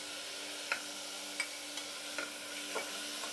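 Onion and tomato sauté in a cooker with a constant soft sizzle. About five light scraping stirs break through at a slow, regular pace, close up, with no one speaking.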